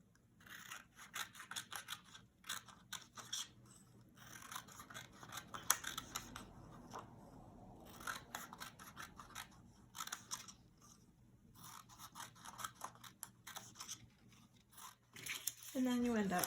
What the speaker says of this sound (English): I'm cutting a nice little fringe here.